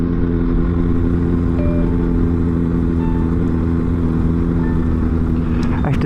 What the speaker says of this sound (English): even without the baffles in, this Scorpion exhaust is a little less obnoxious than the Delcovic one was